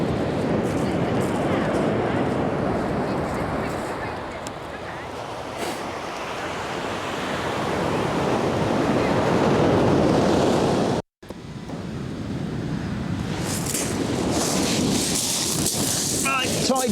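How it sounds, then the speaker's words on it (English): Waves of an incoming tide break and wash up the shore close by, a loud continuous roar of surf with surges and strong wind buffeting, and a voice heard at times. "Right, tide's coming in"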